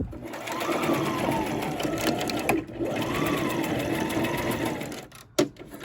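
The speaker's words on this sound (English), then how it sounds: "I switched my machine back to the regular stitch from straight stitch" Domestic sewing machine stitching elastic on a jogger set, its motor whirring in steady runs with a short pause and a clunk as the fabric is repositioned.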